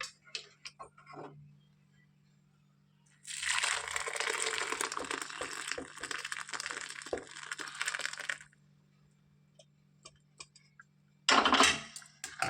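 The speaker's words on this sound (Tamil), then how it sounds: "இந்த ரசத்தை ஒரு பவுலில் மாற்றிக்கிறேன்" Tomato rasam poured from a pot into a bowl, a steady broadband liquid pour lasting about five seconds at close range, followed by quiet and a brief clatter near the end.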